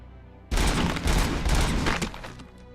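A sudden burst of rapid gunfire breaks out while shooting boxes in the video game RoboCop: Rogue City. The shots are loud and close, run for about two seconds as a dense volley, then fade with a trailing echo.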